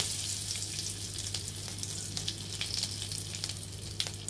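Cumin seeds, cinnamon and cardamom pods sizzling in hot oil, a continuous close crackling fizz with small pops and a low steady hum underneath.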